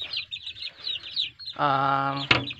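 Chicks being raised in a pen make soft high chirps, then a louder sustained cluck-like call rings out near the microphone and ends in a sharp peep.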